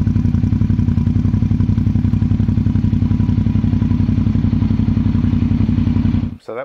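A Suzuki DL650 V-Strom motorcycle with a Delkevic exhaust, baffle fitted, idles loud and close with a fast, even, throbbing pulse of low thumps, running steadily before cutting off abruptly at the end.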